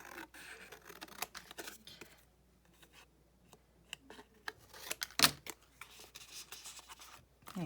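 Quiet snips and rustles of scissors cutting paper at a cluttered desk, close and soft, with intermittent scraping and paper handling.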